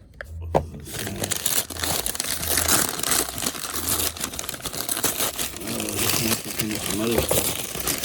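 Packing paper crinkles and crumples in a series of close, sharp rustles during a knife unboxing, while someone talks over it.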